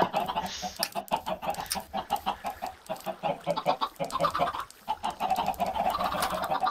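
Chickens in the video game Minecraft cluck repeatedly in short, overlapping bursts, a busy close flock of choppy clucks with no speech.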